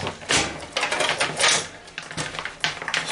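Screws are worked out of a gaming computer's power supply, giving short ratcheting metallic clicks and scrapes in uneven bursts, close and fairly loud.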